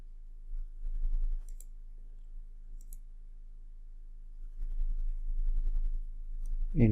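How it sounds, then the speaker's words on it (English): A computer mouse double-clicks while a donut chart is resized in an Excel dashboard. Two faint, quick click pairs sound in near silence, with a louder tap at the very end. "Double click."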